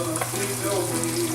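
Squirrel meat fries in a pan with a steady, close sizzle and crackle that goes on without a break.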